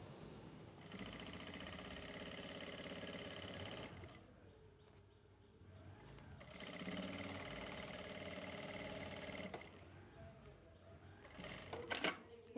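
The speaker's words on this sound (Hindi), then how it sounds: "इस तरह से हमने ये सिलाई लगा ली है" A sewing machine stitches a fabric strip onto a pair of trousers, running in two steady bursts of several seconds each with a short pause between them, close and clear.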